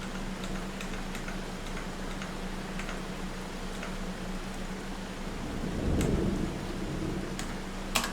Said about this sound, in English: Well, I guess rain stops play again.